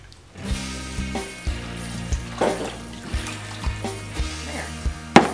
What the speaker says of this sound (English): right at the very end, I add the water, because it kind of, you pour that over that